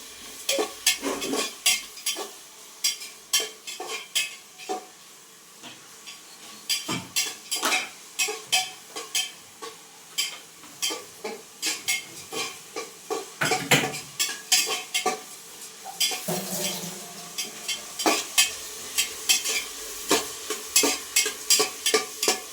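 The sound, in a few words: stirring and frying onions with tomato and ginger in a pan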